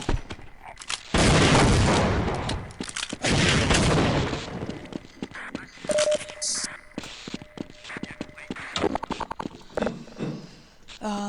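Shotgun alt-fire in the Half-Life Uplink demo, firing two shells at once: heavy game blasts and bursts of gunfire over several seconds, followed by scattered lighter shots and clatter.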